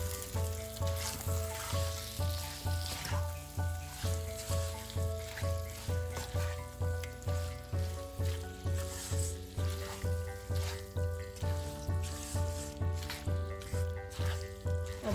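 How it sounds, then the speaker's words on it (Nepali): Raw chicken pieces, about 400 grams with salt, sizzle steadily in a pan on the stove, a continuous hot frying hiss under a softly pulsing rhythm, with no talk. "अब 1-2 मिनट जति यसलाई टिकै पकाउँ, भुट्दै हल्का"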